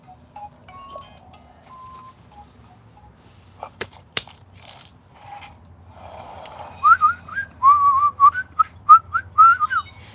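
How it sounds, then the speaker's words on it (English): A person whistles a short run of quick, rising-and-falling notes, fairly close and clear, after a stretch of faint scattered sounds. "so I'm going to whistle."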